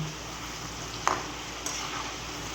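Food frying in a pan while being cooked halfway, a steady low sizzle with soft stirring clinks and one brief sharp scrape, heard alone without talk.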